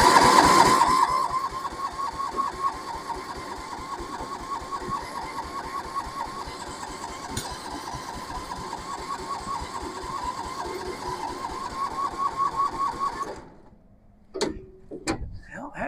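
A Massey Ferguson 7 tractor engine cranking as it tries to start, a steady mechanical churning and whirring with choke and full throttle applied, running for a long stretch before stopping, followed by a few clicks.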